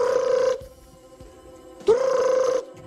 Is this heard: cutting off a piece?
no